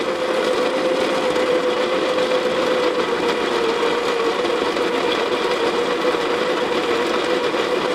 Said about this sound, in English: I've learned, don't talk while you're grinding.